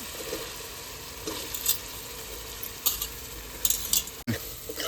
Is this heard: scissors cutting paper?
no